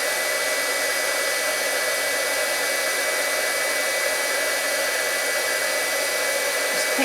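Heat tool blows steadily on a curling Shrinky Dinks plastic Christmas ornament, a continuous close airy roar with a faint whine, unbroken and alone for about seven seconds.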